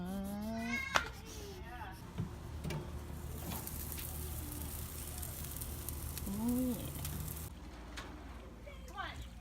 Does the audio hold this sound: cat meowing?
yes